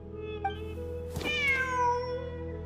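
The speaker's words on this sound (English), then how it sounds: "The cat!" A cat in the Genshin Impact video game gives a single drawn-out meow that rises and then bends downward. It is clear and close over a steady game music bed, and no talk is heard.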